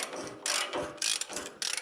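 Concrete anchor bolt being screwed into a drilled hole in a concrete floor with a ratchet, three or four short grinding clicks in quick succession, close up with no talking.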